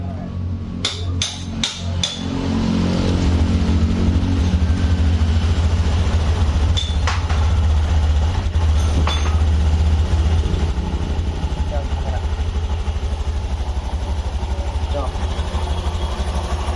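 A 2022 Honda Scoopy scooter engine runs after CVT repair with a steady low idle hum, preceded by a few sharp metallic clicks and knocks, while a person speaks over it.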